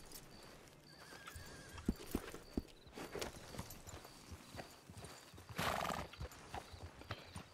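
Steady clip-clop of horse hooves while riding in Red Dead Redemption 2 roleplay, with a whinny partway through, moderately close over soft ambient game sound.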